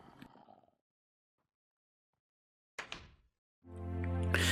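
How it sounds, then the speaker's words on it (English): A brief knock, silence, then a heavier thump followed by a loud, drawn-out creaking groan, like a heavy door swinging open in the Minecraft PSX horror pack. "Followed shortly after by the sound of a door opening."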